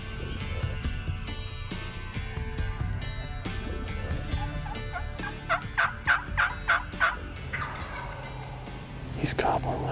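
Amid steady outdoor noise during a turkey hunt, a wild turkey lets out a quick string of about six gobbling notes midway through, moderately loud and somewhat distant.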